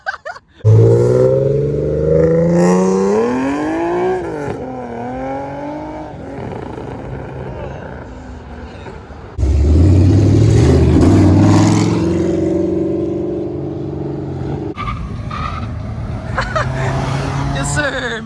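A 1000+ horsepower Toyota Supra leaving a car meet, revving hard and accelerating away in two loud rising bursts, with shouting onlookers and crowd chatter over the engine.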